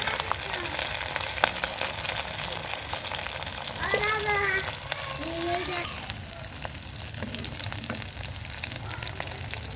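Pieces of pabda fish fry in a pan of hot oil, a steady low sizzle running throughout with faint stirring and a few soft kitchen clanks, no voices.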